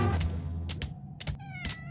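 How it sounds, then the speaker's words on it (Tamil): Several distinct cat meows from the Roblox game Deadly Delivery, four short calls spaced about half a second apart over a low background hum, fairly loud and without talk. "இந்த பூனை சவுண்ட் கேட்டாக்கே ப்ரோ இங்க பாருங்க, இது வருது."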